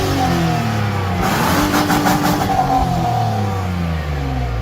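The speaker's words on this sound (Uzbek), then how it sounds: "Bu motor" The engine of a Hyundai Porter / Kia Bongo truck idles with a steady low drone, then climbs through a short rev with rising harmonic whine before settling back. It is heard close and alone, with no talk.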